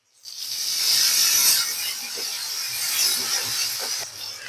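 Chopped onion, salt and ginger-garlic paste sizzle in a hot pan while potato and chicken curry is being cooked, a steady close hiss with faint crackles and occasional clinks of a utensil, no talking.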